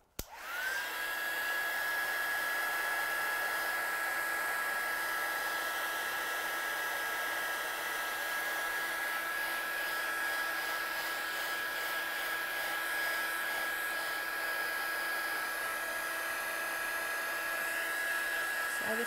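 Hair dryer blowing steadily close by for the whole stretch, drying a freshly stamped handmade card, with a constant whine and airy roar that never breaks.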